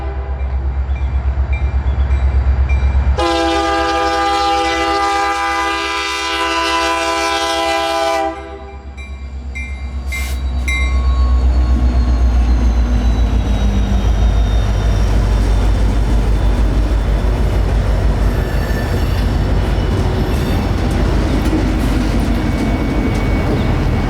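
A loud freight train hauling empty cars with Canadian engines rumbles steadily, its horn blaring for several seconds early on before the heavy rolling noise continues close by.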